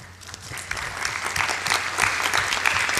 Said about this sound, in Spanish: les pido un aplauso a Juliao